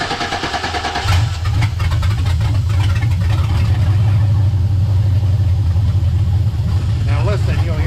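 An LS-swapped 1963 Chevrolet C10 pickup firing up, with a loud starter crank and catch followed by a deep, steady idle, while people talk nearby.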